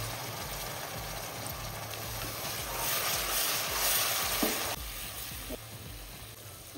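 Ginger, garlic and onion paste sizzles and fries in a pan while being stirred for a country chicken curry, a steady close crackle that swells louder midway, with a few scrapes of the spoon.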